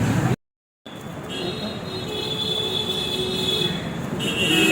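Tram running in Kolkata near Tollygunge, a steady rumble of rails with high squealing wheel tones, fairly close and continuous after a brief cut near the start.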